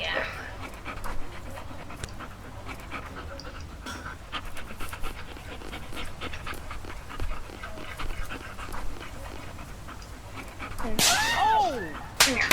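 A dog pants rapidly and steadily close by, under intermittent talking, with a sharp bark-like burst near the end.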